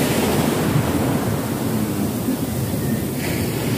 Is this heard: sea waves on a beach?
yes